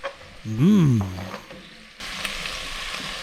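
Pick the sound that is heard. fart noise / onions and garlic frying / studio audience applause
onions and garlic frying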